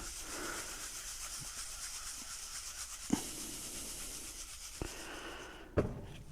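Sand is shaken through a garden soil separator classifier, giving a continuous close gritty rubbing hiss, broken by a few sharp knocks of the sieve.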